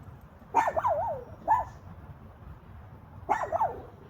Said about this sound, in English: Dogs will be dogs. They get them to just sit and bark.